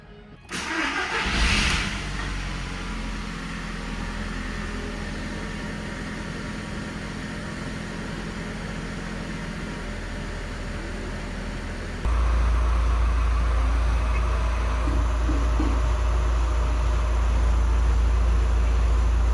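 A 24-year-old Audi S3 with a 1.8T engine cranks and fires up after a big service, settling into a steady idle before the drone steps up louder and deeper midway, running on with no voices.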